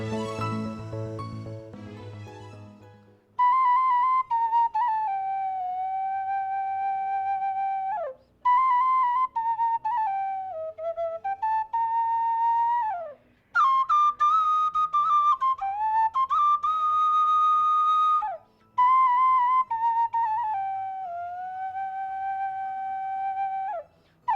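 A bright, breathy Thai khlui flute plays a slow melody alone in several long phrases, with bends and short pauses between them.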